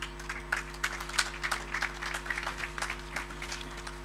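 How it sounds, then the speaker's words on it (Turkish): Audience at a university health sciences oath ceremony applauds with scattered, fairly faint claps in an uneven rhythm over a steady low electrical hum. "Sayın Hakan Koparanoğlu'nu dinliyoruz alkışlarla."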